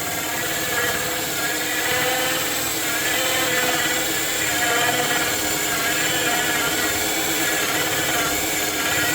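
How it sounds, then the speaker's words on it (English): A power drill bores through a 1.5 inch butcher block countertop, a steady, loud grinding whine that holds continuously without pause. "and then we're going to drill through this."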